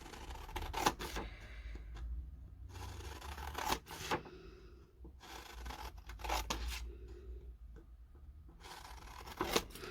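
Scissors cut fabric for the pleats of a modern hanbok wrap skirt, giving a series of quiet, crisp snips and rustles spread unevenly across the stretch, close up, with no speech.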